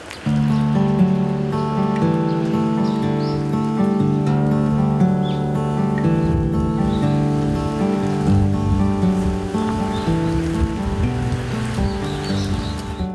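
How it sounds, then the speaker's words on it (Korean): Rain patters into puddles in a steady, dense fall, with drops landing at varied moments while birds call faintly in the background. "여기의 빗소리는 요 새들의 소리가 섞여 있거든요"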